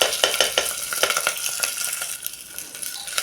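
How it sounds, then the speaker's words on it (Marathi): Washed rice is sautéed with cashews and cloves in a pan, giving a bright sizzle broken by repeated scraping stirs and light clinks of the spoon against the pan. "ते तांदूळ आपण आता हे मिनिटभर परतून घेऊया"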